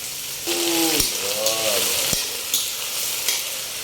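Snails sizzle and fry in a pan with ginger and onion, a steady close hiss broken by sharp stirring scrapes and clicks, with faint harmonic squeaks early on.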